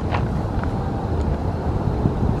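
Strong wind blows outdoors at night near a tent. It makes a dense, roaring rush of buffeting noise against the microphone that stays loud and constant throughout.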